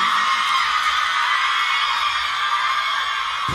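Shrill screaming from a concert audience fills the whole stretch, a dense, sustained wall of high-pitched cries that stays loud and steady throughout.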